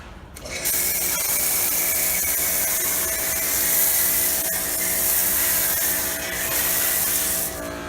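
A standard home pressure washer drives a foam cannon, producing a loud, steady, close-up spraying hiss with a motor drone underneath, starting abruptly and running without pause.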